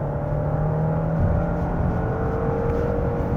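A Genesis G90 in comfort mode under full throttle, climbing from about 80 to 130 km/h, gives a steady, muted engine drone with rising tonal whine, heard continuously from inside the cabin with road roar beneath.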